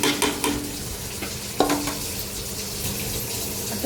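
Washed rice and vegetables being stirred and sautéed in a pot for veg pulao, with steady sizzling and repeated scraping strokes of a spoon against the metal, close up and with no voices.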